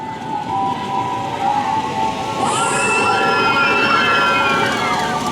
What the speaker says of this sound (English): The very roller coaster tycoon sound effects they are. Like the canned screams.